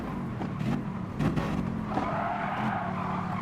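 Race car braking hard in GT Sport on a Tokyo circuit, tires squealing and skidding over a steady, close engine drone, with the squeal swelling in bursts and holding near the end.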